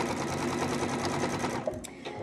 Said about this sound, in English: I'm up here with my 1/4 inch seam and now I'm sewing it.